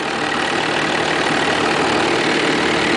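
A Dodge 2500 with an old Cummins 12-valve diesel idles after a cold start: a loud, steady, close-up rumble with a continuous broadband clatter and no voices.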